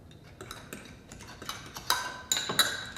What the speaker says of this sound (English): Teaspoon of sugar. Stir that up.